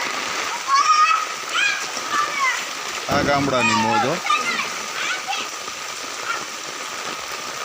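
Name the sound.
rain and flowing water splashing in a village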